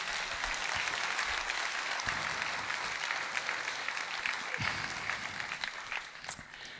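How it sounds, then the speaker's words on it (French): Congregation applause during a French sermon, a sustained wash of many hands clapping at fairly close range, steady and fairly loud throughout, with a few sharper individual claps standing out near the end. "Vous voulez bien m'encourager par une main d'acclamation ?"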